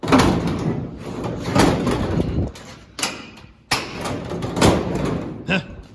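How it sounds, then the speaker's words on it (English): A classic truck's door is pushed shut, giving a few dull thumps and clunks between stretches of someone talking close by. "watch what happens when I push the door closed"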